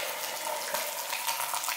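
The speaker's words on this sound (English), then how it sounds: "and you turn off the water" Water runs steadily from a household tap, giving a continuous, fairly loud rushing hiss that holds even throughout, with no talking over it.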